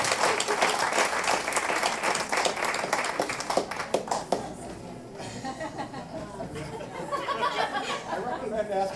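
Coffeehouse showcase audience claps after a song, a full round of applause with a few chuckles and murmured chatter, then the clapping fades into quieter talk and room noise.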